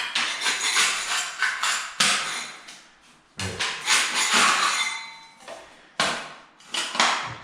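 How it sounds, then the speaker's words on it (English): Asbestos floor tiles being scraped up and pushed into a pile during a renovation, giving bursts of hard scraping and clattering of broken chunks, close and loud, in several separate strokes with short pauses between. "I'll just have to scrape all into a pile"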